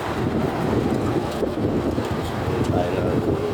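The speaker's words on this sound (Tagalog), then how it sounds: "Pero mahangin po rito." Steady low rumbling buffeting of wind against a microphone, loud and continuous throughout, with no clear voices.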